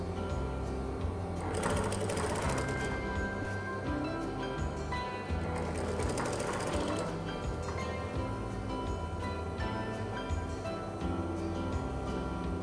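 A sewing machine stitches a neckband collar in one long continuous run, its fast even mechanical whir steady and close throughout, with no voices.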